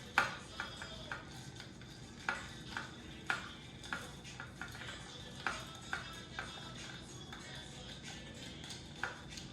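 Mojito being stirred with crushed ice in a glass, a spoon clinking and tapping against ice and glass in repeated light, uneven strikes, close and fairly quiet with no talk.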